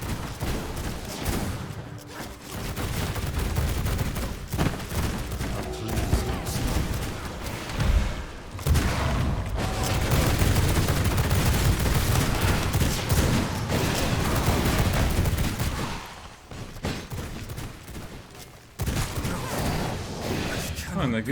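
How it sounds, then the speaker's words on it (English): Rapid pistol gunfire from the video game V Rising during a PvP castle raid, dense bursts of shots crackling almost continuously with short lulls, loud and close under game ambience. "And I guess they're also using the new pistols"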